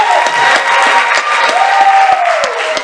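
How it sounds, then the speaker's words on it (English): A debate crowd applauds for a county judge candidate, with dense, loud clapping and some cheering throughout. "Give him a round of applause"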